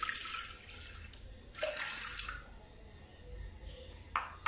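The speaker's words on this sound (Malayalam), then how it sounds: "ഇനി ഇതിലേക്ക് ആവശ്യത്തിനുള്ള വെള്ളം മാത്രം ഒഴിച്ചു കൊടുക്കുക." Water is poured into a pressure cooker holding washed chana dal, heard as short splashing gushes close by with quiet pauses between pours and a light clink of the vessel.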